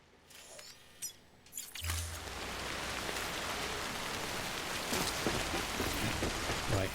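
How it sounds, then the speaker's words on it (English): Steady rain in the video game Death Stranding, a dense continuous hiss of drops pattering on surfaces that swells in after a few faint mechanical clicks and stays even throughout. "this rain is grim, and it's really messing with my truck"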